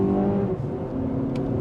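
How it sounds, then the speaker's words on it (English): A 2024 Lexus TX 500h F-Sport hybrid SUV pulls hard from a standstill at full throttle, a loud steady engine drone with a rising whir rolling on without pause. "This time I'm just going to floor it, and we're going to see what we can get without brake torquing"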